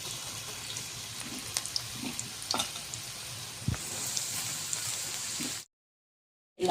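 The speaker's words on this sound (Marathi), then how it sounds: "पॅनमध्ये तेल टाकलेलं आहे, तेल आपलं गरम झालेलं आहे। आता याला फ्राय करून घ्यायचं" Slices of bitter gourd fry in hot oil in a pan, giving a steady soft sizzle with scattered crackles and pops, then a brief stretch of silence near the end before the sizzle returns.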